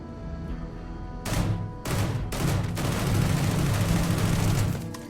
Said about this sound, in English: This is like an automatic shotgun with the power of a rifle.